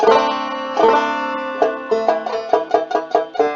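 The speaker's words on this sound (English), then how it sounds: "You might get like a vibrating, like a tinny vibrating sound" Plucked banjo notes ring out in a quick run, with a thin, tinny buzz from a string vibrating against a fingernail as they are picked.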